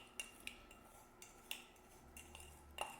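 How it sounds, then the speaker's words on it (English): Baking soda and oil worked into a paste with a utensil, giving faint, quiet scraping and a few light clinks of metal against a dish at irregular intervals, with no talking. "Stir it in."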